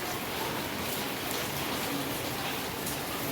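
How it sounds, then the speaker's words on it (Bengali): Heavy rain pours down in a steady, dense hiss of drops that stays loud and unbroken throughout, with no voices over it. "প্রচণ্ড জোরে নেমেছে বৃষ্টি।"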